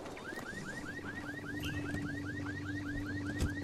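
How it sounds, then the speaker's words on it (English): A car alarm blares inside the video game Ghost Recon Wildlands, a steady run of repeating rising-falling chirps under a constant low hum and wind, loud and close with no talk over it. "Car alarm goes off."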